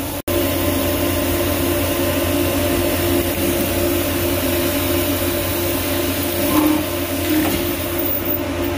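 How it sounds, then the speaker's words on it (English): Grain pours by gravity from an overhead bin into a grain cart, a steady, continuous loud rushing hiss that holds evenly throughout with no speech. "Just gravity feeding right out of the overhead bin."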